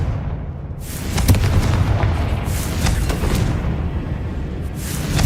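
A fire-spell explosion in the Hogwarts Legacy video game rumbles as loud, sustained booming with several blasts layered over a deep roar, no voices over it.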